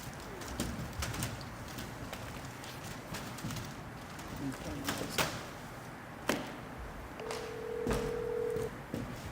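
A single steady telephone tone sounds near the end, amid faint background clicks and low room noise.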